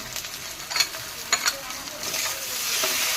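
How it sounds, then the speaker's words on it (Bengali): Oil sizzles steadily in a pan as spices and tomatoes fry for a boal fish curry, with a few scraping stirs of a spoon, the frying hiss growing louder toward the end. "দিয়ে আবার একটু ভাজা ভাজা করে দেবো।"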